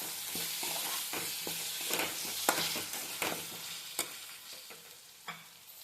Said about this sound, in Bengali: এবার সব উপকরণকে আমি একটু ভালো করে ভেজে নেব।